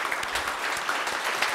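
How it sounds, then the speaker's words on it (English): Audience applause at the Kentucky Science Center's new bridge exhibit event, a steady wash of many hands clapping for the whole stretch, dense and even with no voices on top. "I think everybody should applaud you"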